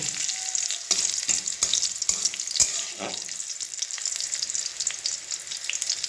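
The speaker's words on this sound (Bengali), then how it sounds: "কালো জিরে এক চামচ কালো জিরে দিয়ে একটু খুব ভালো করে ভেজে নিতে হবে" Black cumin seeds fry in hot oil on a gas stove for Bengali mustard hilsa, giving a steady bright sizzle with a few sharp clicks and pops from stirring, close up and with no talking.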